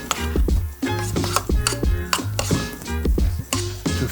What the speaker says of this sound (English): And then just gonna mix it all up together.